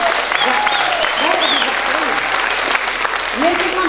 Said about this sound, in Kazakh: Бұған ерекше шапалақ ұрып қойсаңыздар болады.